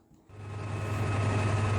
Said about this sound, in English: here they are idling away at North Barton